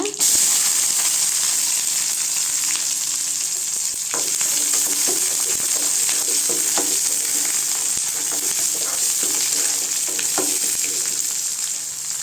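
Small shallots sauté in hot oil with curry leaves for mint chutney, giving a loud, steady sizzle with scattered stirring clicks and scrapes throughout, close up and without talk.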